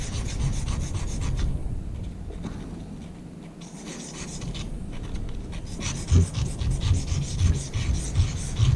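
Black opal ground by hand on a coarse 240-grit whetstone, giving a steady, close, rasping scrape that runs throughout, with strokes that thicken and grow louder toward the end; no one speaks.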